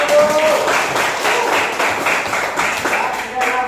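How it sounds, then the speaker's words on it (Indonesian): Students in a classroom clap in praise of classmates who scored above the passing mark of 80, producing brisk, fairly loud, slightly uneven clapping throughout, with a faint tone and some background murmur. "Tepuk tangan dulu."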